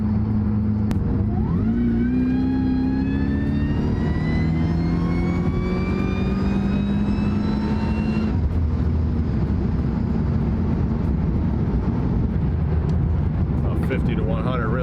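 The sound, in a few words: car engine revving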